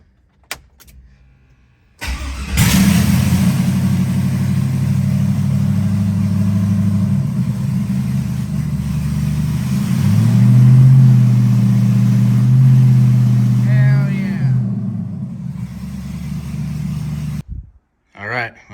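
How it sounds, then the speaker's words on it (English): An LS-swapped Ford Crown Victoria fitted with a nitrous bottle starts up and settles into a loud, steady engine drone close by, lasting most of the stretch before cutting off near the end, with brief talk around it. "So we're going to start the car up real quick."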